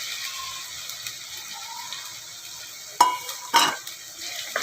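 Onions with ginger garlic paste sautéing in a clay pot, a soft sizzle under scraping stirs, with two sharp clanks of a spoon against the pot near the end.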